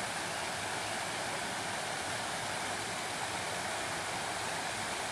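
Steady, broad rushing roar of a waterfall near Hampton Court castle, even and unbroken, close and fairly loud with no voices.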